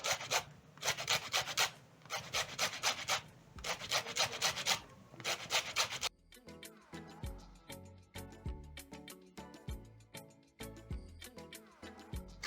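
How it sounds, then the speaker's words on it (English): Rhythmic rasping strokes of a lemon being zested into a bowl of flour, in close bursts of quick scraping, followed by a clearer run of tapping and grating knocks. "I'm going to pick another lemon and zest into the bowl"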